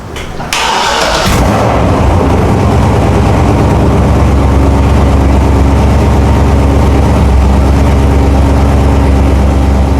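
A car engine cranks and starts after its dead battery has been charged, then settles into a loud, steady, low idle as it warms up, close by, with no talking.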